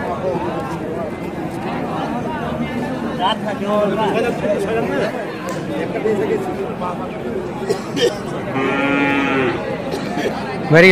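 Cattle at a dairy cow market selling local and Friesian cows with calves, with a moo-like call rising around nine seconds amid steady crowd chatter and people talking close by.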